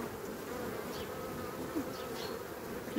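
Honeybees swarm and buzz around a hive while foraging heavily on nectar in autumn, a steady dense insect drone that carries on without a break, with a few louder individual bees passing close.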